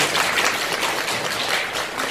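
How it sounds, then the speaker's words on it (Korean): A lecture audience gives a steady round of clapping, dense and even, lasting the whole stretch with no voices over it. "좋은 강의 진행해주신 이강호 선배님께 다시 한번 큰 박수 부탁드리겠습니다."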